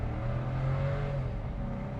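VW Virtus engine accelerating in first gear, a close, steady droning rev that holds level throughout without any voices.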